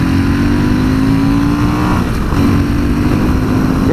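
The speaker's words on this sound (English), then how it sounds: "the engine's got bags of go actually" A Fantic Caballero 500 Rally motorcycle engine revs loud and close on a country back road, a rising, buzzy drone that dips briefly mid-way as it shifts, then climbs again.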